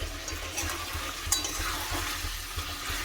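Chicken and potatoes fry in a pan while being stirred for a chicken curry, with close sizzling under scraping stirs and a few sharp clinks, steady throughout.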